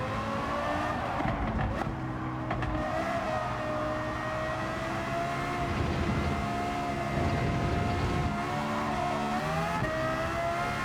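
The Lexus LFA's engine drones through a lap in Gran Turismo 7, a continuous high-pitched howl that rises and dips with shifts and throttle changes, loud and with no talking.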